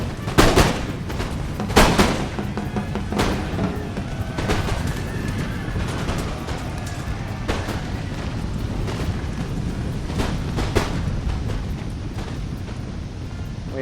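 Constant gunfire from a video-game battle of French and Austrian regiments, with loud crackling volleys and booming shots at the start easing into a dense, continuous rumble of distant musket fire.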